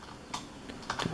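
Quick keystrokes on a computer keyboard while entering a command in a terminal, a handful of soft, close taps in a short irregular run.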